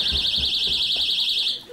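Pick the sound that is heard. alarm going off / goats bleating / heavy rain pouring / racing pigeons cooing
alarm going off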